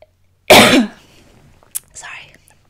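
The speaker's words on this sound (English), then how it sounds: "I had a slight coughing fit there." A person coughs once in a loud, harsh burst, followed by a short click and a softer throat clearing a moment later, otherwise quiet.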